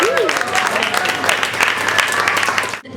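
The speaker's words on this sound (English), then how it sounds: "So let's give Shea a round of applause." Audience applause at a Monday night talk series, dense steady clapping from a sizable crowd throughout, cut off sharply at the end, with a faint whistle-like tone near the start.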